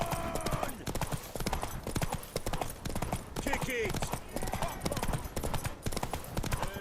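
Rhythmic hoof clip-clops from a horse in The Witcher 3: Wild Hunt, mixed with music, effects and a shouting voice over the top.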